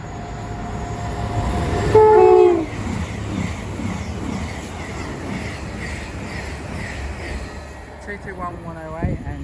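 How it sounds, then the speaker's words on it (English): A pair of Class 221 Super Voyager trains on the West Coast Main Line at Watford Junction, bound from Crewe to London Euston, rumble past at close range with a loud two-tone horn blast early on, then a steady rolling roar of wheels and engines. "a West Coast double pair of 221 Super Voyagers going from Crewe to London Euston"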